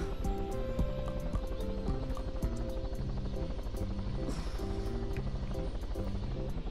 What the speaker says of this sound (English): I want to fly the helicopter.